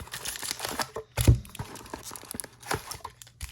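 Close, crisp crinkling and ripping of foil booster card pack wrappers, uneven bursts with one sharp tear partway through.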